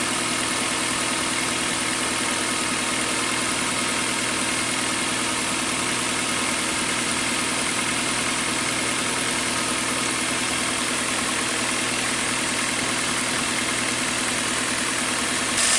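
A 2015 Hyundai Accent engine idles while running rich with a crank sensor fault, producing a loud, steady, unbroken hum with constant vibration and no talking.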